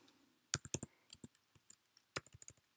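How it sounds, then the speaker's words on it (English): Fingers tap on an unfamiliar computer keyboard in quick, uneven bursts, with the clicks close and fairly quiet and short pauses between runs of keystrokes. "Not doing very well with my typing here today. This is not my usual keyboard."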